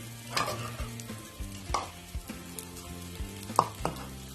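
Beef pulao being stirred and mixed in a pan, a spoon scraping and clinking at an uneven pace over a low sizzle, with a few sharper knocks standing out, all close and with no talking.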